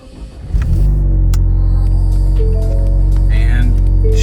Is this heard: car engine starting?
yes